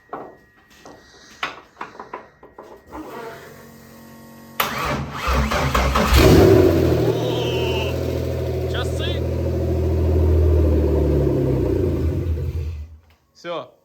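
A car engine cranks in short bursts after several attempts, then catches with a loud roar and settles into a steady rumbling idle before cutting off, with people talking near the start.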